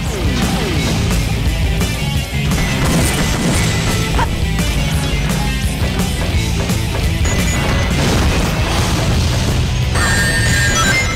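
Dynamite explosions in the Sonic Adventure 2 video game come as loud, dense crashes and booms over continuous game music and effects, with no gaps between them.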